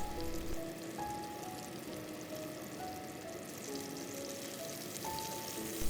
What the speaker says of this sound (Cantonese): 冚蓋煎焗20秒，然後開蓋煎1分鐘，煎乾啲倒汗水